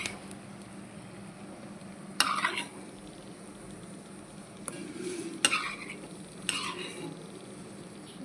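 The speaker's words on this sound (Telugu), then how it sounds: "జీడిపప్పు వేయించుకొని పక్కన పెట్టేద్దాం మనం." Cashew nuts fry in a pan for pongal, with a soft steady sizzle and a few sharp clinks and scrapes of a metal spoon stirring against the pan, close and alone with no talk.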